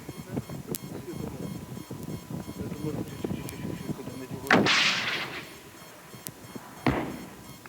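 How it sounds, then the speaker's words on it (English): A rocket-propelled grenade is fired from an RPG launcher during basic training for fighters in the 1999 Kosovo war. A sharp, loud blast is followed about two seconds later by a second, fainter boom over background murmur. "One grenade fired from an RPG, a rocket-propelled grenade launcher"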